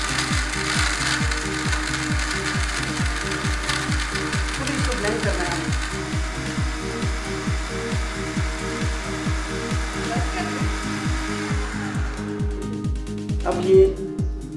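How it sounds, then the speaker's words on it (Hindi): Electric blender crushing ice for a drink makes a loud, continuous grinding roar with a rapid rattling pulse that stays steady, then thins out near the end as the motor winds down. "ये सारी जो आइस थी वो बिल्कुल क्रश हो गई, इट्स ऑल ब्लेंड ब्लेंड"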